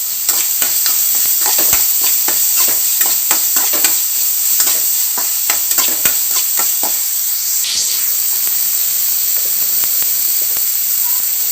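Ginger garlic paste fries in a pan for a liver gravy, a loud, close sizzle with rapid repeated stirring scrapes and ladle knocks over the steady hiss.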